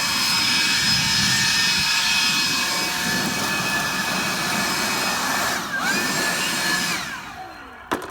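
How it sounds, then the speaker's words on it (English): A hand blower roars steadily while clearing debris from the engine bay of a 2003 Silverado 2500HD truck, a loud close whine with shifting airflow that drops away and cuts off near the end. "grab a hand blower and get rid of this stuff"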